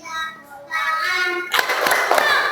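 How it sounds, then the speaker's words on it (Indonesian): Children clap their hands in time with a sung Indonesian children's song in a classroom lesson, a few quick claps punctuating the singing. "Kalau kau suka hati tepuk tangan."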